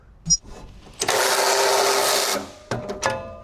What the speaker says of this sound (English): I'm going to take out the 2 bolts here at the very front of the battery, as well as the 2 that are located on the very rear